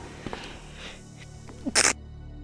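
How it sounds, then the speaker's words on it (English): A single sharp sneeze bursts out near the end, close and loud, after a stretch of quiet game ambience with faint background sounds. "you almost got bombarded there by that sneeze"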